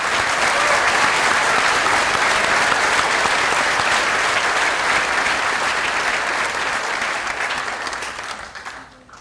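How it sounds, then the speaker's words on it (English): A crowd at a high school graduation applauds the school band with loud, continuous clapping that holds steady for most of the stretch, then tapers off and fades out near the end. "Could I start with asking for another round of applause for the Fairhaven Union Band?"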